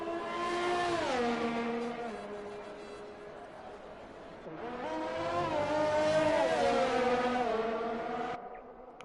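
Two open-wheel race cars battle wheel to wheel on track at a rookie championship pre-season test in Austria, engines screaming loud and close, revs rising and falling through gear changes, with commentary over the top.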